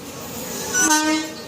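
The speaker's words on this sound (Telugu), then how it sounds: "హారన్ కొట్టు" Amrit Bharat Express sounds a horn, a short nearby blast that swells midway through a rumbling ride and then fades back into the running noise.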